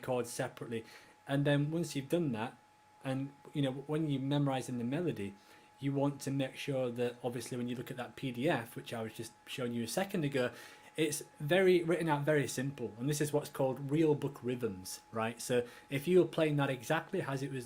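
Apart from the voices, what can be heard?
No everyday noise stands out behind the speech.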